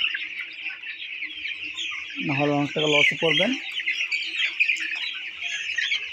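A dense, constant chorus of high-pitched peeping from 16-day-old broiler chicks fills the space, while someone speaks briefly over it in the middle.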